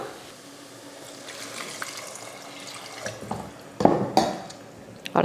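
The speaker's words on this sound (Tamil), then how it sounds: "இந்த டைமில் நம்ம தண்ணி சேர்த்துடலாம்" Water splashes and sizzles into frying masala in a hot pan while making parotta, with a few stirring clanks and scrapes toward the end; no talking.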